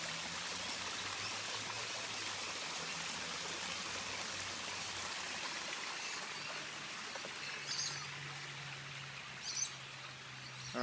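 Park water feature in London trickling steadily, a continuous close wash of running water with faint birdsong and a couple of brief clatters near the end.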